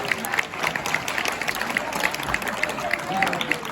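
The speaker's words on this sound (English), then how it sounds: "One more round of applause for our wonderful pageant." Audience applause at a pageant, scattered clapping from a crowd with faint chatter and cheering mixed in, moderately loud throughout.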